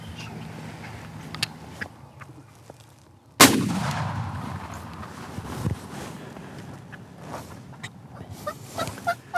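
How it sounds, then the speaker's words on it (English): Single shotgun blast fired at a wild turkey outdoors, one sharp loud report with a lingering rumbling echo, set against quiet natural ambience and faint rustling. "Bob will have to risk moving his gun to take the shot."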